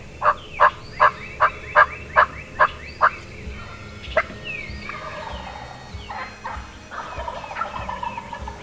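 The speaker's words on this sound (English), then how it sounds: "2 longbeards entered the field and were gobbling on every call" Wild turkey longbeards gobble in a field, starting with a rapid series of about eight loud yelping calls followed by rolling gobbles that carry on more distantly across the open ground.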